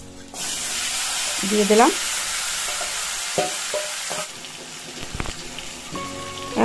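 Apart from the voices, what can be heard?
marinated chicken sizzling as it is added to hot pan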